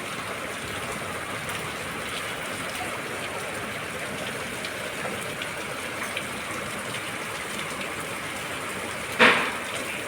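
Heavy rain pours steadily over the rooftops of buildings in Dhaka, a dense, even wash of noise that holds without pause, with one brief sharp knock near the end.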